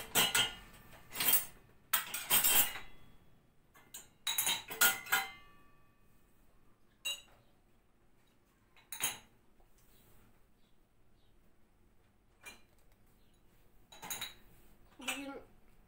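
Dishes and cutlery being loaded into a dishwasher in a home kitchen, scattered clinks and clatters of plates and silverware in irregular bursts, close, with quiet gaps and a few words spoken.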